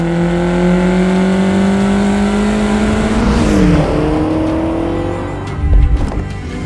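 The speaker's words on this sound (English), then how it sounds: "And that's the Lotus Esprit V8." A Lotus Esprit V8 sports car accelerates hard with a loud, close engine roar rising through the revs and a gear change midway, then eases off as a brief low thump closes the run.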